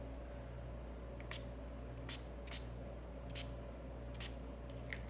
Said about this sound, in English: I'm going to spray down the paint